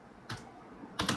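Typing code on a computer keyboard: two quick clusters of close, crisp keystrokes about half a second apart, no voices.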